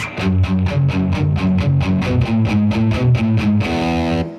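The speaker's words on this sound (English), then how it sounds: "loud chord, lots of gain, distortion." A loud, heavily distorted electric guitar chugs a fast rhythmic riff of repeated chords, ending on a sustained ringing chord.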